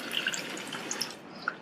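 Drained lentil cooking water goes into a pan while dal is being made, a faint, brief trickle with small scattered drips and splashes.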